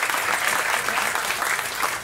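An audience at a standup comedy show claps in a steady, dense burst of applause that stays even throughout, with no speech over it.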